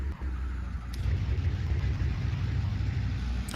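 A Lamborghini GT3 race car in Project Motor Racing idles and rumbles with a deep, steady low engine note, close and continuous, with a couple of brief clicks and no talk.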